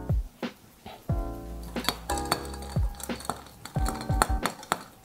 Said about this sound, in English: So give that a bit of a stir.